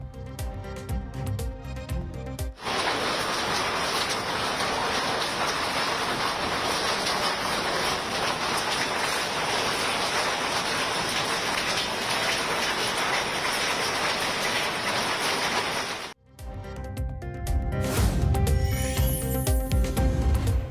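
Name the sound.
heavy rain in Uttarakhand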